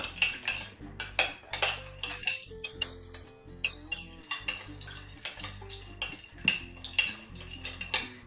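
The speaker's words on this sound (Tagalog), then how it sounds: "At ito, haluin natin. Dahil sa matunaw po yung asukal." A spoon stirs sugar in a metal pan to dissolve it for banana peel chips, sounding as repeated close scraping and clinking strokes in an uneven rhythm, with no talking.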